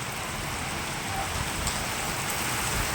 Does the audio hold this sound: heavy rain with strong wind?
yes